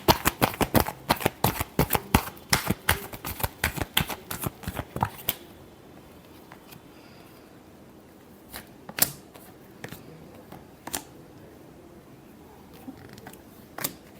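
A large shuffle of tarot cards: a rapid run of crisp riffling snaps for about five seconds, then a quiet stretch broken by a few isolated card taps and flicks.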